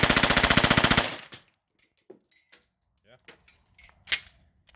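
9mm gunfire through a Midwest Industries blast can muzzle device: a rapid string of about a dozen sharp, evenly spaced shots for one second, then quiet, with only faint clicks and handling noises.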